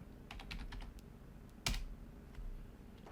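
Fast bursts of typing on a computer keyboard while setting up a PC for sim racing software, clicks close and distinct, ending with a louder thud and a few more scattered keystrokes against faint room noise.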